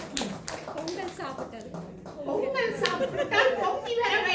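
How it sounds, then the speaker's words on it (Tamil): Audience clapping at a magazine release event, scattered claps building into fuller applause, mixed with chatter and voices nearby, including children. "தயவு செய்து கரகோஷம் போடுங்கள்."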